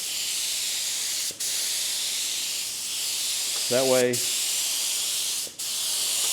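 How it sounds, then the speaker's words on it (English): A spray can dusts clear coat over a patina finish in short hissing bursts that stop and restart, with a person talking briefly in the middle. "just dust the clear coat on it, or whatever you're covering it with"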